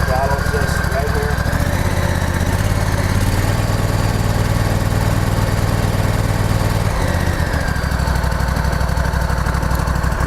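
The pump engine of a fire department training truck runs steadily after starting, a loud, continuous low chugging drone with a shift in tone partway through.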